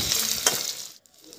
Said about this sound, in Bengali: তেল গরম হয়ে আসলেই একটি একটি করে ফুলকপি আমি দিয়ে এখানে ভেজে নিচ্ছি।